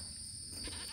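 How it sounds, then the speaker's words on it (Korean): Goats kept on an apartment balcony in the city, including a male goat, give a faint, short bleat over a constant electrical whine and background noise. "염소들이"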